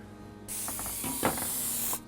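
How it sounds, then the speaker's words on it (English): Cooking spray hisses onto a cake pan in one continuous burst of about one and a half seconds, close and loud, with faint clicks from the can's nozzle. "spray it just a hair"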